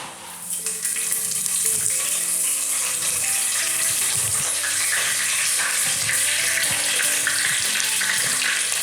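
Fresh curry leaves dropped into hot sesame oil for a chicken chilli flakes dish, crackling and sizzling loudly and continuously, with a sharp burst at the start settling into a steady frying hiss.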